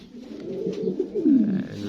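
Pigeons cooing up close in a loft, a soft, low, warbling coo that rises and falls over about two seconds, with muffled voices nearby.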